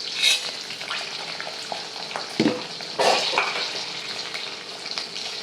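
Steady crackling sizzle of lentils and chili frying in a pan, with a few brief stirring scrapes and clinks, close by and no talking.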